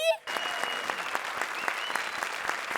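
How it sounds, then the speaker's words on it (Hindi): A brief voice is cut off, then loud, sustained clapping from a comedy show studio audience fills the rest, dense and steady. "जोरदार तालियां"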